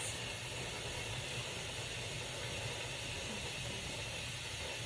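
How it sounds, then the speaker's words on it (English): A steady, loud hiss of steam vents continuously without a break from a pressure canner while canning grapefruit, a broad even rush of noise with a faint low hum beneath. "I can feel the steam. It's coming out good."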